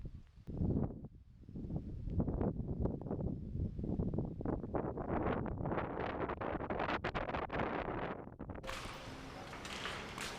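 Gusty wind on a farm buffets the microphone in irregular rushing bursts, rising and falling in strength, fairly loud with no voices, and ends in a brighter hiss.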